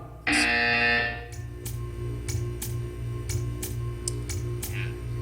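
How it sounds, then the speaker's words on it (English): A loud electronic buzzer blares for about a second, then a steady low hum continues with faint ticking clicks. "You will hear a buzzer."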